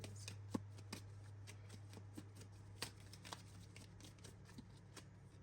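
Tarot cards shuffled by hand, a soft riffle and slide broken by sharp taps and flicks against a steady low hum, close and quiet, with no voices.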